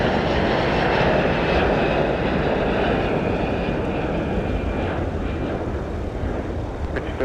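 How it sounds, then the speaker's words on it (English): Airliner taxiing on taxiway Mike at Minneapolis–St. Paul airport about 300 feet away in winter, a steady loud broadband jet engine roar that holds throughout with slight wind rumble. "they'll taxi right by us, 300 feet away on taxiway Mike,"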